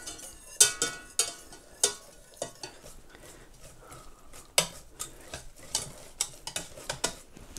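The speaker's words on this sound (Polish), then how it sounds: "Marysiu, trzymaj tutaj tą naszą rózgę i ja zacznę Ci wsypywać mąkę" A whisk stirs flour into boiled water and butter in a pot, giving faint irregular clicks and taps of metal against the pot with quiet scraping between them, no voices.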